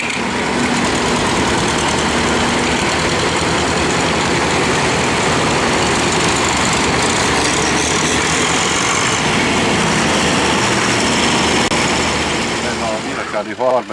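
Old tractors, including a restored Dutra, rumble past in a village tractor parade, a loud steady chorus of low diesel engines idling and rolling along, with a voice heard over them.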